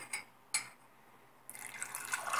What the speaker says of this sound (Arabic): دوك راني درت نص كاس تاع ماء